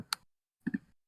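Two brief clicking bursts, the second a quick double tap, with a pause between; close and quiet, like keys being pressed on a keyboard.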